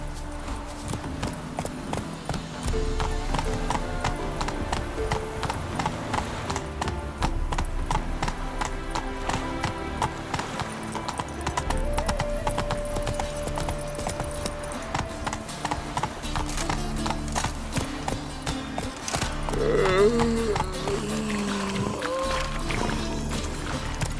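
In the video game The Witcher 3: Wild Hunt, a horse gallops with rapid, rhythmic hoofbeats for the whole stretch, steady and mid-loud, mixed with game sounds and occasional speech.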